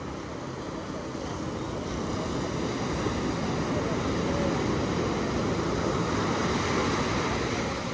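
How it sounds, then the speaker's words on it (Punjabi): Sea waves break on Nagoa beach in Diu, a continuous rushing surf that swells slightly louder partway through, with wind across the microphone. "ਆਏ ਆਉਂਦੀਆਂ ਛੱਲਾਂ ਬਾਈ ਸਮੁੰਦਰ ਤੇ"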